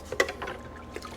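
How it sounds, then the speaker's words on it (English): Water splashes and trickles as a vintage Honda motorcycle part is rinsed in a bucket, a short, close burst of sloshing that then tapers into light drips. "Let's rinse it off. In this bucket."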